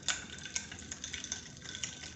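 A spoon stirs mulberry sherbet into water in a glass, making quick, light clinks and ticks against the glass in an uneven, steady patter. The sound is close and fairly soft.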